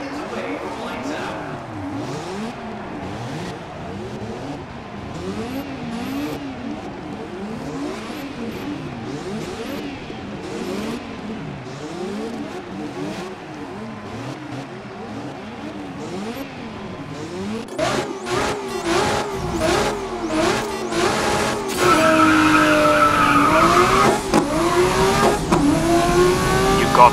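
Race cars at Silverstone in the Grid racing game, BMW M1 Turbo Group 5 among them, sit on the grid with engines revving steadily, then launch at about 18 seconds into loud, rising acceleration and gear changes, with talk over the top.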